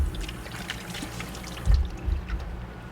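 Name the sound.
rinsing egg yolk off hands under running water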